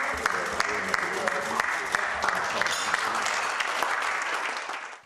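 Steady, loud applause for Angela Merkel at her last cabinet meeting as chancellor, a dense wash of clapping that holds evenly and then fades out at the end.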